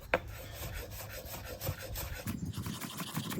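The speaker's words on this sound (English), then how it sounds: "So maybe 2 onions for the dish, and we'll just say like 1 onion for garnish, and I'm gonna cut them 2 different ways" Kitchen knife slicing through onions on a cutting board, cut on the bias for a garnish, giving a steady run of close, rasping strokes with a brief sharp tap near the start and no talking.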